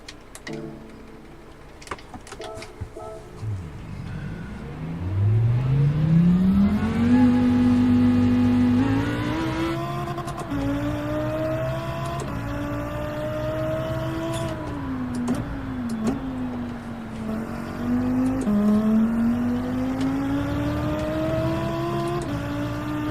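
Lamborghini race car engine in Gran Turismo 7 revving up hard and climbing through the gears, a loud sustained whine that dips and rises again with each shift and carries on for the whole stretch, with no voices over it.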